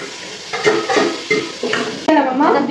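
Coconut paste and tomato stirred in a cooking pan, giving wet scraping and squelching strokes in a few bursts, close and moderately loud with no talk.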